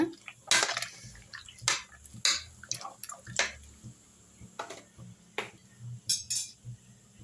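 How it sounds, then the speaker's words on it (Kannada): Ivy gourd, tomato and onion are stirred in a pot for a jackfruit seed sambar, giving faint, scattered spoon clinks and soft wet taps in an irregular rhythm against a quiet background. "ತೊಂಡೆಕಾಯಿ ಮತ್ತು ಟೊಮೆಟೊ ಈರುಳ್ಳಿ ಇವಾಗ ಚೆನ್ನಾಗಿ ಮಿಕ್ಸ್ ಮಾಡೋಣ"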